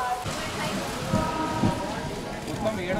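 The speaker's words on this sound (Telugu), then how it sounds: "వర్షం మొత్తం మన మీద పడేలా" Steady rain hiss with scattered drops and a soft low rumble, continuous and moderately loud, heard close by during a downpour aboard the Hyderabad–Mumbai Hussain Sagar Express train after leaving Tandur.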